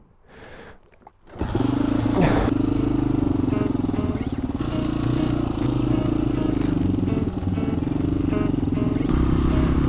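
A Honda XL 500 R motorcycle engine kicks to life after a quiet start, then settles into a loud, steady, thumping run close by, holding strong for the rest of the stretch.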